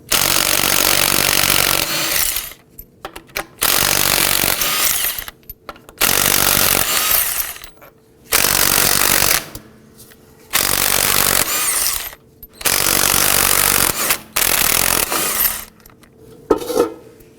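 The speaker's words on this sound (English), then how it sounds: "Using a 19mm socket, let's loosen and remove our lug studs." An impact wrench loosens the rear wheel lug nuts on a 2001-2009 Volvo S60 through a 19mm socket, loud close rattling bursts of about two seconds each repeating with short pauses, a few metallic clinks near the end.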